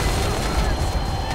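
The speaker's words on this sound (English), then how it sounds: "vehicles can explode a bunch" Vehicle exploding in the shooter game Crysis 2, a dense, loud burst of rumbling blasts and crackling gunfire-like booms filling the whole moment, with a voice partly mixed underneath.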